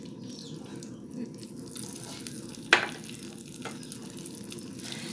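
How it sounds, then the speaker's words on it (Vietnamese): Salted tofu skin (yuba) fries in hot oil with a steady, soft crackling sizzle, broken midway by a single sharp clack, with no talking over it. "Mình sẽ cho cái phần tàu hũ ki này vô mình chiên nha."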